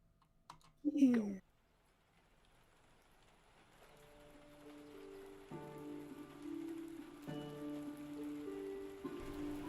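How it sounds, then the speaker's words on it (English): Rain patters steadily on the closed windows of a tavern and grows heavier, with a brief vocal sound near the start and sustained musical tones swelling beneath it. "The rain pounded on the closed windows of the tavern"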